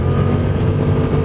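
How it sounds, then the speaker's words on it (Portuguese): Kymco AK550 maxi-scooter engine accelerating hard out of a bend on a test ride, a loud, steady, close engine roar mixed with wind rush and no voices. "Isto é uma moto disfarçada de scooter."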